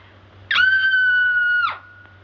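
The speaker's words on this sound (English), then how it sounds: "I'm so nervous I could scream. In fact, I think I will." A woman in an old black-and-white comedy lets out a single sustained, loud scream lasting about a second, steady and high-pitched, ending abruptly, with no talk over it and a low hum beneath.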